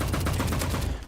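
A quick, loud burst of rapid gunshots in Roblox Rivals, evenly spaced cracks firing in a fast rhythm for about a second and then stopping.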